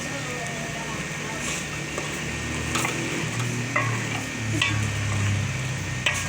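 Black chana and rice frying in ghee in a pan, a continuous sizzle with intermittent scraping stirs and clinks, close up.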